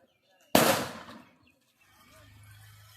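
A Diwali firecracker bursting in one loud, sharp bang that decays over about a second, followed by a faint low rumble afterwards.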